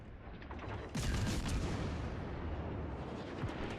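Naval guns boom in the World of Warships video game, a heavy salvo erupting after a rumbling lead-in and rolling on as a dense, loud roar of distant blasts.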